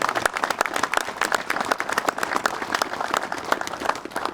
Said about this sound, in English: Let's give a round of applause for the Hamus.